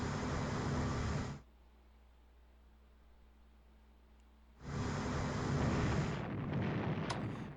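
Shore bombardment in Strategic Command WW2: War in the Pacific comes as two long, roaring explosion blasts, each starting and stopping abruptly, with a quiet gap of a few seconds between them.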